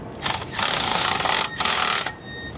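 Bolts are driven into a car engine cover over a gasket during a simple tune-up, heard as two close, loud bursts of whirring power-tool drive with brief pauses between.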